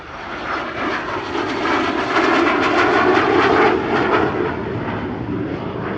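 A classic jet from 100 Squadron RAAF, such as the A-37B Dragonfly or Canberra TT-18, roars through a solo display at the Shellharbour airshow, a loud sustained engine rush swelling to a peak mid-pass and easing off.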